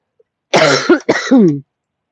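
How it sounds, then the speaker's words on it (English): A person coughs and clears their throat in a craft studio, two or three close, loud throaty bursts in quick succession with no talking. "otherwise I'm going to cough endlessly right there."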